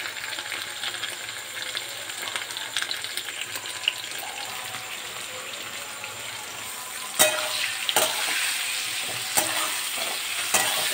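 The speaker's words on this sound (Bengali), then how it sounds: "ফোড়ন দিলাম, দিয়ে পটলটা ভাজতে দিয়ে দিলাম" Pointed gourd (potol) frying in oil after a tempering of spices in a pan, a steady soft sizzle with occasional sharp clicks and stirring knocks of a spatula, close and continuous with no talk.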